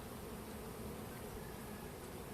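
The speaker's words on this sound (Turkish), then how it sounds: "Arı bu tarafta." Honeybees buzz steadily and densely at an open beehive during a spring brood inspection, a close, continuous drone with no talking.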